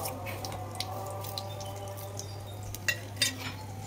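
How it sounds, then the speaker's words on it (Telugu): Mustard seeds and chana dal sizzling in hot oil in a pan, a faint steady crackle with a few sharp pops and spatters near the end, under a low constant hum. "1 స్పూన్ ఆవాలు, శనగపప్పు వేసేసుకుంటున్నాను, మినపప్పు వేసేసుకుంటున్నాను."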